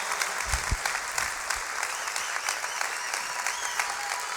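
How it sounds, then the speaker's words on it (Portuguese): Church congregation applauding during a Portuguese-language service, a dense, continuous wash of many hands clapping at moderate loudness with no voices. "Você pode aplaudir ao Jesus."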